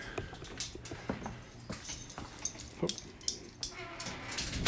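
A dog kept out of the house whimpers and yips in short, uneven bursts, fairly close, mixed with light clatter and handling noises in a backyard.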